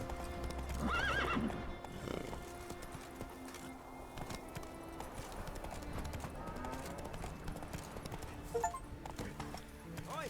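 A horse in The Witcher 3 video game clip-clops steadily at close range after a short neigh, hoofbeats continuing rhythmically under ambient game sounds.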